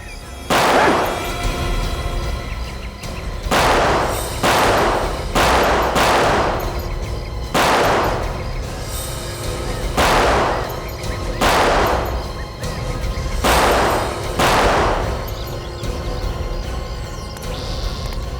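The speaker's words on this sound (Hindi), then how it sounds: "बंदूक है मेरे पास, एक एक उड़ा दूंगा।" Gunshots ring out in a TV crime drama: about eight loud, sharp reports arrive at irregular intervals, each trailing off in a short echo.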